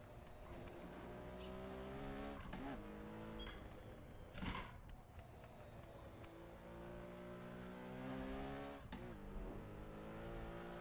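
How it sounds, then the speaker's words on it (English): A Porsche 917K race car, an old racer on big tires, lapping the Nordschleife in a racing game: steady loud engine drone with layered harmonics, brief rev spikes and gear changes, running continuously without talk. "This is an old race car with big old tires."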